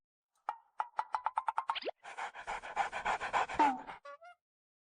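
Dog in a dramatic film scene panting in quick rhythmic puffs, then a long run of heavier breathy pants, close and fairly quiet, ending with a few small whimpering sounds.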